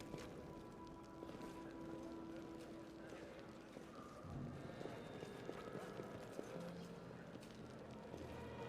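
Horse hooves clip-clop in a video game, a faint, fairly quick run of soft hoofbeats under low ambient tones and a few brief louder knocks.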